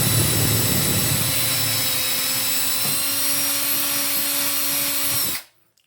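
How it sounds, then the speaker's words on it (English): A power drill bores a small pilot hole into a wall during a Kohler shower head installation, a loud steady whine running continuously close by for about five seconds before stopping abruptly. "let's drill a little pilot hole according to the instructions"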